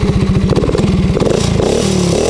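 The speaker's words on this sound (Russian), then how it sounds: "Запускаем мопед и хорошенько его прогреваем." A used moped's small two-stroke engine runs close by while warming up, puttering in rapid pulses and rising as it revs, with a rattly, buzzing tone throughout.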